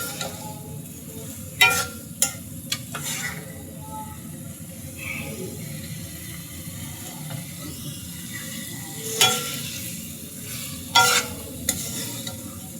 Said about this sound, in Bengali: কলিজা ভুনাটা দিয়ে আমি এখন মশলার সঙ্গে সুন্দর করে কষিয়ে নিচ্ছি।